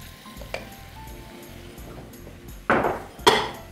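Flour toasts in a pan for a mushroom and ham lasagna, a quiet low sizzle broken by two brief, louder bursts of hissing and scraping near the end.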